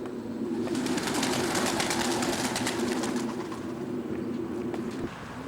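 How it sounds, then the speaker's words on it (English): Many racing pigeons cooing together in a loft, a steady, close chorus of low throaty calls, with a soft flutter of movement. "This is Ralph's main racing loft"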